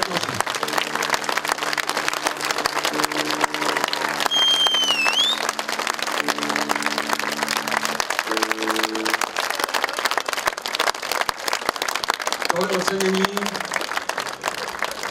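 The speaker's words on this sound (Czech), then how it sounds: "Veliký potlesk." Audience applause fills a country music awards ceremony in the Czech Republic, a dense, steady clapping that continues throughout while tonal voices or music sound faintly over it.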